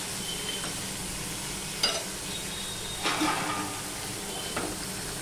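Vegetables for a Bengali vegetarian dish frying in a pan on medium-low heat, with a soft steady sizzle and a few brief scraping stirs of a utensil against the pan.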